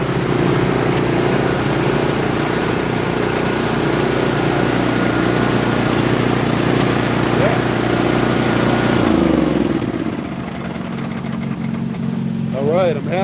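A Wheel Horse B115 lawn tractor engine runs at a steady, loud drone, then winds down and fades toward the end, with people talking nearby.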